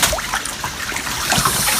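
Fresh water pouring steadily into a backyard fish pond, a close, continuous splashing and trickling rush with bubbling gurgles, no voices.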